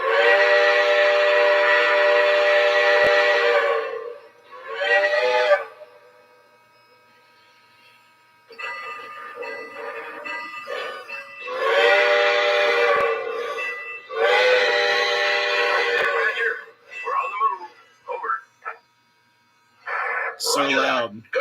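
An SW1 model train locomotive sounds its horn in long, loud, steady tonal blasts separated by pauses, with a quieter running hum between them and people talking over parts of it.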